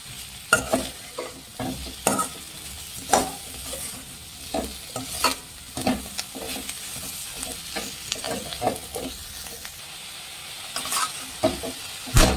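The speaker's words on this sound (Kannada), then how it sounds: "ಇದನ್ನು ಹೈ ಫ್ಲೇಮಲ್ಲಿ ಇಟ್ಕೊಂಡು ಚೆನ್ನಾಗಿ ಫ್ರೈ ಮಾಡಬೇಕು" Chicken 65 frying over a high flame with curry leaves, a steady close sizzle broken by repeated sharp scrapes and clanks of a spoon stirring in the pan, with no talking.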